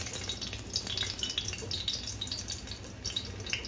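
A green chili dropped into hot ghee fizzes and crackles steadily as it tempers, a continuous close sizzle with small popping bursts and no talking.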